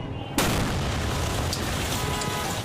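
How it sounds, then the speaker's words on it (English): Massive fireworks explosion during a planned LAPD bomb squad detonation in South LA, a sudden loud boom that cuts in abruptly, then a sustained rumbling roar that holds steady to the end. "The LAPD bomb squad truck designed to withstand such an explosion failed."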